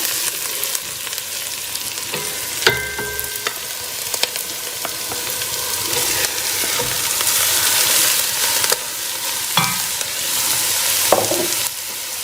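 Steady sizzling of minced beef frying with onions in a pan, with occasional scraping and clinking as a utensil stirs the mixture; no talking.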